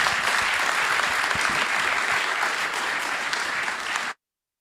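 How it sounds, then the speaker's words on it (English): Applause from a conference audience at a bitcoin treasuries unconference in the UK, a loud, dense, even clapping that holds steady for about four seconds and then cuts off abruptly. "Warm round of applause."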